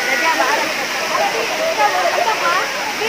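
Binalayan waterfall in Samboan, Cebu, producing a steady broad rushing roar of falling water, loud and continuous, with voices talking over it.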